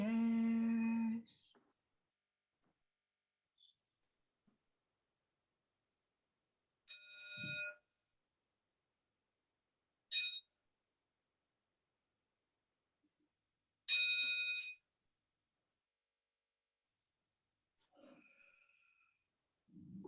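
A meditation bell rings at a Buddhist service, several clear, bright metallic strikes spaced a few seconds apart, each ringing out briefly into near silence.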